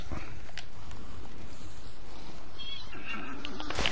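A horse neighs in a short, shrill whinny toward the end, heard over a busy, noisy background of rustling and thumps, with no speech.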